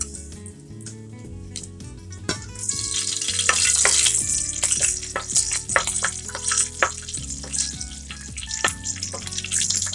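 Whole spices (cinnamon sticks, bay leaves, cumin seeds and cloves) hit hot oil in a pan and sizzle loudly, with crackling pops and utensil clinks, close by, settling into steady frying.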